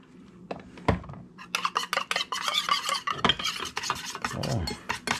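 Olive oil dressing being whisked by hand in a bowl: a steady run of quick scraping, clinking strokes, loud and close, with no talking.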